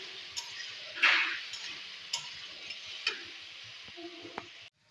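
Potatoes frying with salt and turmeric in a pan, a low sizzle under scattered scrapes and clinks of a spoon, with one louder hiss burst, ending abruptly.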